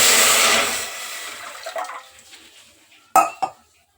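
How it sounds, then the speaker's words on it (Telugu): Water is poured into a pot to make jaggery syrup for a sweet, heard as a loud rushing pour that tapers off, followed by two sharp metallic clanks of the vessel. "వాటర్ అయితే పోస్తున్నా"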